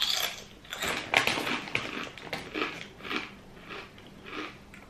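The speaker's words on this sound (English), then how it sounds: "potato crisps with sour cream and onion flavor" Sour cream and onion potato crisps being bitten and chewed up close: a run of sharp, brittle crunches in quick succession, quiet overall, with no talking.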